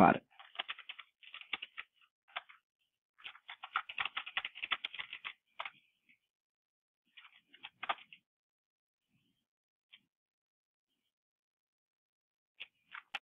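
A computer keyboard clatters close by in quick, uneven bursts of keystrokes as a terminal install command is typed, separated by short pauses and a few lone taps at the end.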